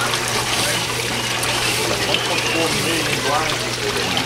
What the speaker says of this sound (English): Look at the water welling up.